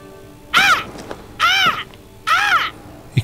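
A crow in the video game Banishers: Ghosts of New Eden caws three times, loud, harsh calls evenly spaced about a second apart over a quiet background.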